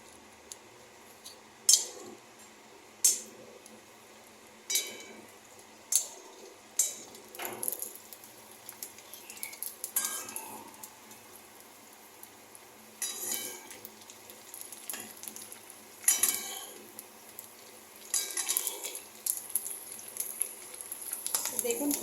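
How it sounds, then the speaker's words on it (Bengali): Fuchka puffing up in hot mustard oil in a wok, a steady close sizzle with sharp crackling pops and occasional scraping clinks of a utensil, building denser toward the end. "সর্ষের তেলটা গরম হলেই আমি এগুলো ভাজবো ফুচকাগুলো"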